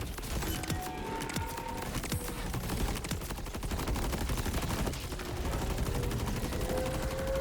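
Nonstop gunfire from a weapon with regenerating ammo in the video game Borderlands 4, a dense rapid stream of shots running unbroken throughout at high volume.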